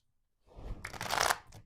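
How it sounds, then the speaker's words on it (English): A quick riffle of tarot cards being shuffled, a short papery flutter that rises and fades within a second, close and fairly quiet. "Do one more shuffle."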